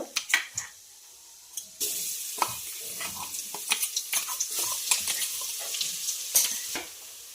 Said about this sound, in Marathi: याच नंतर अद्रक लसूणची पेस्ट